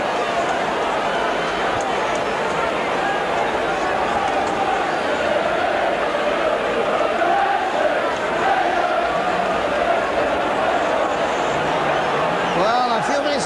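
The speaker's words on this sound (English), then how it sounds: "Now it's Wednesday we love you from the Kop." Sheffield Wednesday fans on the Kop chanting 'Wednesday we love you' during a 1987 home match against Norwich City, a dense, steady roar of massed voices filling the stadium throughout, heard from a distance.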